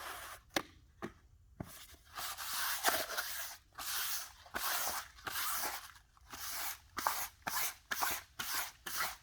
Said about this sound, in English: I've got my brake parts cleaner here